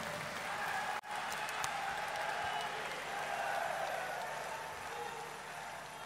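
Steady, dense applause from a large crowd at an Indian political speech event, continuous and fairly loud throughout with no talking over it.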